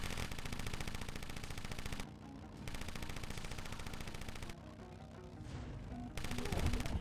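Rapid automatic gunfire in the motorcycle combat video game Road Redemption, sustained bursts of dense rattling shots separated by brief pauses, loud and close with a heavier blast near the end.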